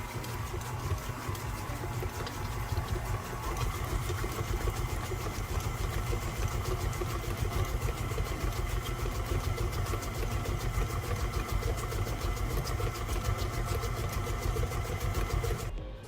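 A stand mixer runs continuously while mixing mint chocolate chip cookie dough, making a close, steady motor whir with a fast rhythmic churning that stays even for about sixteen seconds before cutting off.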